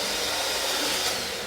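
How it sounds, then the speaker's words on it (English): An electric mixer whisks sugar in a bowl while baking, giving a steady, continuous whirring hum with no break. "And then we're going to whisk it with our electric mixer"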